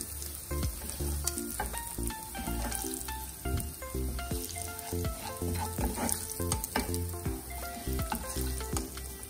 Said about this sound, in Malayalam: ചെമ്മീൻ ഇതുപോലെ ഫ്രൈ ആയി വന്നാൽ മതി.